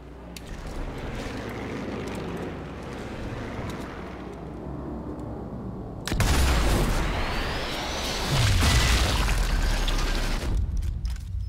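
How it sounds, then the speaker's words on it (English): An ammo box blows up in Sniper Elite 4 with a sudden loud boom that cuts through a steady ambient rumble, followed by a long roaring, crackling tail and a second swell of debris and fire. "Ammo box will explode."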